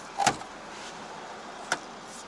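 Electric side mirror motor on a nearly 30-year-old Acura Integra Grand Sport, heard as two brief, quiet mechanical bursts about a second and a half apart against faint background hiss.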